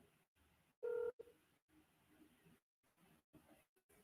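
Telephone keypad tones beep in short separate bursts as a number is dialed, one louder tone standing out among fainter presses, with quiet gaps between them and no talking.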